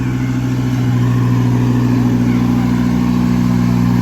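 A tractor spreads quartz sand across a football field under construction, its engine droning loudly and evenly without pause.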